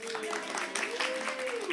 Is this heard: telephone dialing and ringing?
no